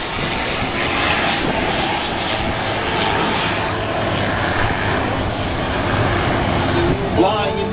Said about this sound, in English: Okay, this is comprised of two F4 Phantoms and a P-51 Mustang.